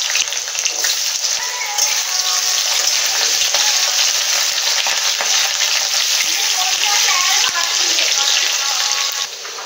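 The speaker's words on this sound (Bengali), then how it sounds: "তেলটা গরম হয়ে গেছে, আলুগুলো প্রথমে ভেজে নেব।" Potatoes frying in hot oil in a wok for a cauliflower and potato dish, a loud, steady crackling sizzle with sharp spits and pops, close and continuous, easing slightly at the end.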